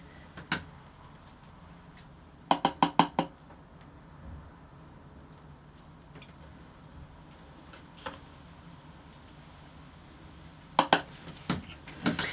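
Pots and containers knocked and set down during cold process soap making, measuring out soap to be colored yellow: a few isolated clinks, then a quick burst of four sharp taps and a later cluster, near, with quiet gaps between.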